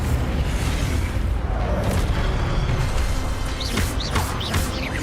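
Incendio fire spell cast in Hogwarts Legacy: a loud booming blast with a rushing whoosh that rumbles on, followed by a few bright crackling and chirping effects.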